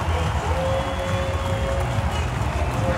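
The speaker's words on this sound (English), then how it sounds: "it's loud, you got people cheering" A packed crowd at a high school wrestling match roars steadily, a constant wash of cheering and shouting filling the gym with no breaks.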